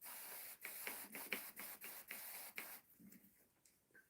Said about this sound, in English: I need to spray the water here, like spray the soil here a little bit